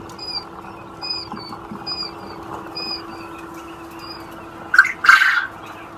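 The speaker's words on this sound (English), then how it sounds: "That's a lot of baby quail." A crowd of baby quail chicks on a quail farm keeps up high, repeated peeping in a steady rhythm, with a brief burst of rustling and flapping near the end.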